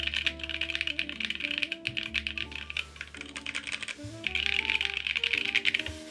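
Rapid, steady typing on a Vertex Arc 60 plateless keyboard fitted with JWK Oolong switches gives a close, crisp stream of clacky keystrokes with a few brief pauses, while music plays softly in the background.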